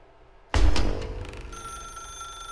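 A telephone rings in the video game The Stanley Parable, a sharp loud burst of bell-like ringing that decays into a lingering electronic tone.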